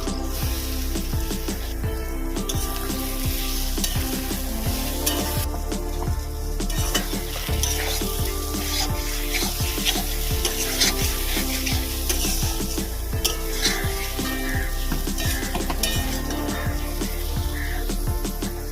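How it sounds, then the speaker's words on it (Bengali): Prawns sizzle and fry with turmeric spice paste in an oiled pan, a steady loud crackling hiss with repeated stirring scrapes throughout, no talking. "আমি চিংড়ি মাছ দিয়ে দিই"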